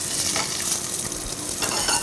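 Cauliflower sizzles steadily in a hot frying pan during a chef's cooking demonstration, a close, continuous crackle with occasional stirring scrapes and no talk.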